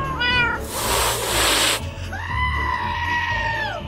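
A realistic cat in the Minecraft video game meows in two drawn-out, wavering cries separated by a loud burst of noise, close and prominent throughout.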